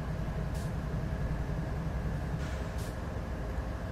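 An ES44 diesel locomotive's air compressor runs in Train Sim World 3, a steady rumbling mechanical drone with a rhythmic chugging pulse and brief hissing bursts of air, continuous and fairly loud throughout.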